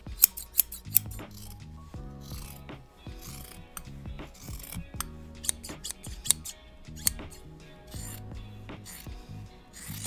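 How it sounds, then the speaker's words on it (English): Sharp fabric scissors snip through fabric in a quick series of crisp cuts, each close-up blade closure giving a bright metallic slice separated by brief pauses. "I recently upgraded from my hand-me-down scissors that have never been sharpened to a proper pair of fabric scissors"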